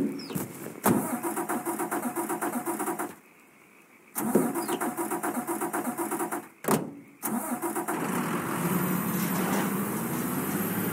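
A car engine in the Mafia 3 video game cranks and catches, with two short gaps before settling into a steady, loud running idle that continues to the end, with no one talking over it.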